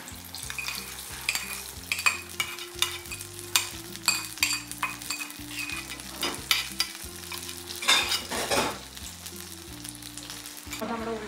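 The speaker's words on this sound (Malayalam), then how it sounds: "ഞാനപ്പോ പായസത്തിനുള്ള അണ്ടിപ്പരിയും മുന്തിരിയും വറുത്തോണ്ടിരിക്കുകയാണ്" Cashews and raisins sizzle steadily while being fried for payasam, with repeated close stirring scrapes and clinks of a spoon against the pan throughout.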